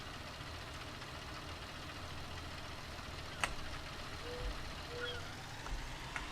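A tractor engine runs in the Farming Simulator 19 video game, a steady low idle-like drone throughout, with a sharp knock partway through and a few faint tones.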